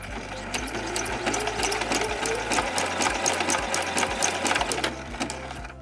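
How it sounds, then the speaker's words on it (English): A sewing machine running a zigzag stitch to finish the raw edges of a drawstring casing on an eco-friendly fabric shoe bag, a steady continuous mechanical whir with rapid needle clatter throughout, close and alone. "I finished the zigzag stitch going around the about 2 inches on each side and then the short edge."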